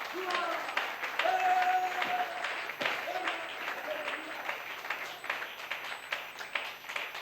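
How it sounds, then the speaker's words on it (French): Applause in a church service, a mid-level wash of clapping that runs throughout, with brief sustained tones and voices mixed in underneath. "Une main d'acclamation, Seigneur."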